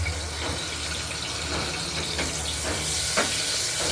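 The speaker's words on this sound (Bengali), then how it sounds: "প্রেশারে তেল গরম করে তেজপাতা দিয়ে তেজপাতা দিয়ে দিয়েছি" Bay leaves sizzle in hot oil inside a pressure cooker, a steady close crackling hiss with a few soft clicks and pops throughout.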